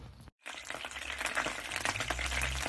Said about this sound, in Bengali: সরিষার তেল অ্যাড করে এখানে আমি বাকি মশলাগুলো আগে কষিয়ে নেব